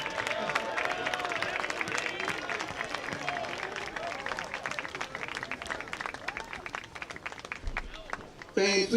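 A crowd claps and cheers steadily at a men's lacrosse senior recognition between Elmhurst University and Illinois Wesleyan, the applause fairly distant and sustained, with voices in the stands and a louder clatter at the very end.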